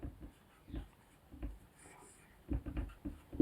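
Pen scratching shorthand strokes onto paper, short soft scraping bursts in an irregular rhythm with pauses between them, faint and close by.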